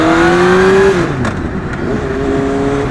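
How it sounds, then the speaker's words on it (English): An 18-year-old Honda Fireblade superbike revs hard at open throttle, a loud near engine whine climbing in pitch before the throttle eases off into a lower, rougher running drone. "Okay, open throttle."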